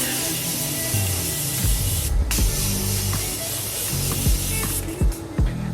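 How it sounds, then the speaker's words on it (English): A continuous hiss of a makeup setting spray mist runs for several seconds, close and steady, with a few faint clicks and rustles underneath. "I'm just gonna spray myself with some Morphe setting spray."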